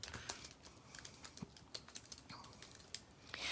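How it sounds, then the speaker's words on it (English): Quiet, close clicks of a computer keyboard as a search is typed, irregular bursts of keystrokes with short pauses between them. "you just type in free digital papers"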